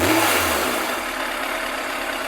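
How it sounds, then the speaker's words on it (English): A Yamaha FZR1000 EXUP motorcycle engine runs close and loud during carburettor balancing, a brief rev at the start easing into a steady, settled run with no talking. "Just rev it, just get it settled."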